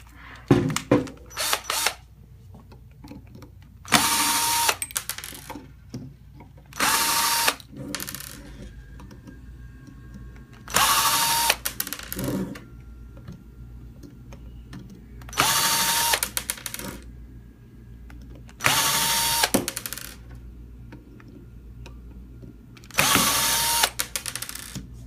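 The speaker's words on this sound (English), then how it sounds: "We've removed the 7 screws that hold the lid" A power tool whirs in repeated short bursts while removing the screws from an SWP-4000 pump lid, several evenly spaced loud bursts with clinks and handling noises between them.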